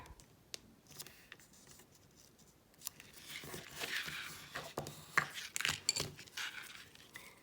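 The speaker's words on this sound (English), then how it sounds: "Then I again fold the triangle in half, making sure I have good creases." Paper is folded and creased by hand for a paper flower, with soft crinkling, rubbing and sharp little crease snaps, quiet and close, growing busier toward the end.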